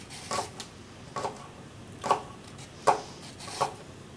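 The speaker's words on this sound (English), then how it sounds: "I'll prepare the green beans. I'm just going to chop these into small pieces" A knife chops green beans into small pieces on a board, giving five separate soft, close taps spread out at an uneven pace with quiet gaps between them.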